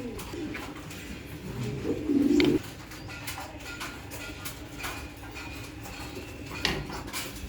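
Spangled Modena pigeons coo in a breeding loft, soft repeated calls with one brief louder burst early on and faint clinks in the background.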